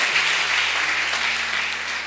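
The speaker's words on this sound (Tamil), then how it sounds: "ஜோரா ஒரு கைத்தட்டு கொடுத்துருங்க சகோதரருக்கு." Applause from a congregation at a night praise and prayer meeting, a steady wash of clapping that holds at even loudness for about two seconds, with no talking over it.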